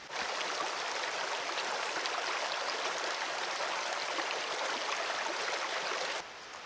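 A river runs beside a hiking trail in Cave Creek Canyon, a steady broadband rush of flowing water that stays even and moderately distant throughout, softening slightly at the very end.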